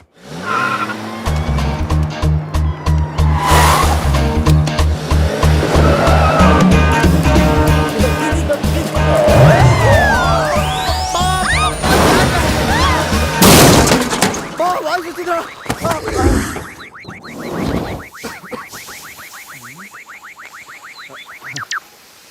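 A film car crash damages a bumper and bonnet: loud revving and tire squeals build over music, then sharp crunching impacts and rattling debris, with people talking and shouting over parts of it.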